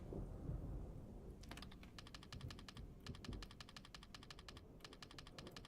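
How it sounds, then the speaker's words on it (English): Storm ambience in a video game: a steady low rumble of wind and rain runs throughout, with bursts of rapid, clicky crackling laid over it from about a second and a half in, loud and continuous with no speech. "The storm seems to have let up though."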